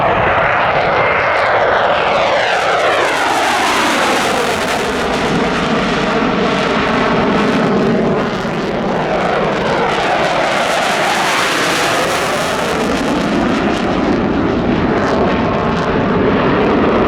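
A CF-18 Hornet at the Camrose Airshow in 2025 runs its jet engines at full power close by, producing a loud, sustained roar with sweeping pitch changes as it passes and turns, continuous for the whole stretch.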